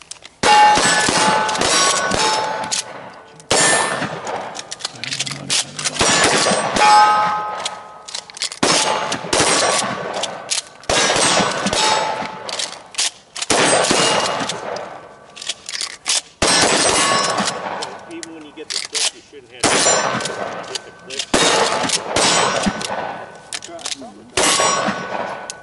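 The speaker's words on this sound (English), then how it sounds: "Emergency reload, single shots." Shotgun blasts ring out one at a time onto steel targets in an emergency reload drill, about ten sharp shots, each followed by a bright metallic clang, with short pauses between them.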